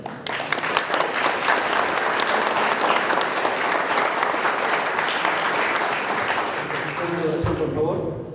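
Loud, dense applause from a large crowd fills a graduation ceremony for a motorcycle and vehicle mechanics class. The clapping holds steady and strong throughout, then cuts off abruptly near the end.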